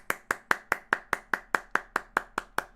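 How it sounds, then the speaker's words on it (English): A single pair of hands claps in a steady, even rhythm of about a dozen sharp, close claps, loud and with no talk over them. "round of applause for Tartar."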